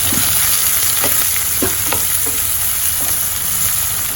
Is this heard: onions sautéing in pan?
yes